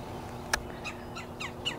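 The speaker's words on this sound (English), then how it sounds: "the woodpeckers are carrying on about something" Several sharp woodpecker calls ring out in quick succession on a creek flood plain, one loud snap followed by a few raspy chirps, moderately close with light background noise.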